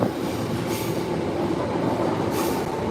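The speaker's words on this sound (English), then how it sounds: "Yeah, more trains leaving." Steady low rumble of a new train leaving a Swiss station close by, with faint wheel squeal and brief hissing bursts, continuous throughout.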